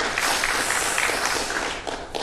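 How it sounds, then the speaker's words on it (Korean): An audience applauds at a constitutional reform committee forum, a dense, close burst of clapping that stays strong and tapers slightly toward the end. "박수 치시려면 화끈히 치셔도 됩니다"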